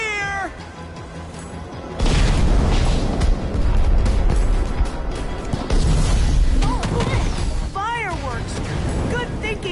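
Fireworks burst in the Minecraft Story Mode video game, a loud dense crackling roar from about two seconds on that stays full and busy, with game voices and cat-like cries scattered through it.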